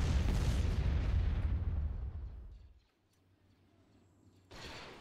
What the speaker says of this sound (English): Lay down cover fire.